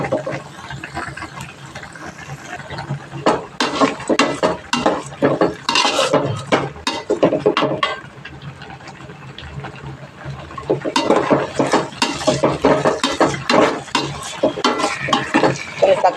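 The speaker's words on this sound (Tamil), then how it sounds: "நம்ம வந்து இப்போ தக்காளி போட்டு வதக்கிக்குவோம்" Tomatoes are sautéed with browned onions for a spicy okra tamarind curry, with repeated loud clanks and scrapes of a metal spoon against the pan over a low frying sizzle, coming in bursts with brief pauses.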